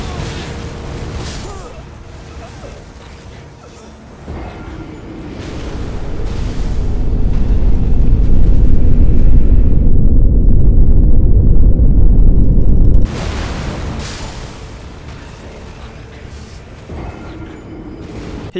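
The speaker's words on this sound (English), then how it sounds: "the Fire Wheel move, whatever it's called, Black Flame move, it's the thing that gets me every time" Maliketh's Black Flame attack in the video game Elden Ring erupts in loud booming blasts that swell into a deep, sustained roaring rumble before cutting back to lighter battle noise.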